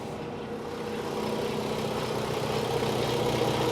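Custom 2017 Kenworth T680 truck with a 510 hp engine idling at a steady, quiet low rumble, the compressor running along with it, a constant close drone that grows slightly louder after the first second.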